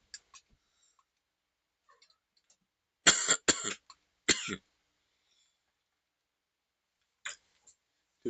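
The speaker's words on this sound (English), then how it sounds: "I still have this remnant of the cough." A few close, dry coughs come in a short cluster, one or two more follow a moment later, and the rest is near silence with faint clicks.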